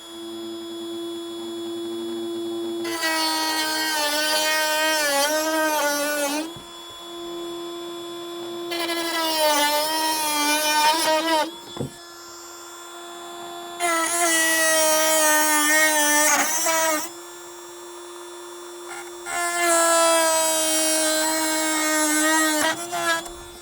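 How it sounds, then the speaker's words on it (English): A mini drill with a cutting disc cuts through model railway track in four separate bursts, each a few seconds long and rising to a high shriek, with a steady hum between them. "I've got a mini drill with a cutting disc, and this should make, hopefully, light work of the track."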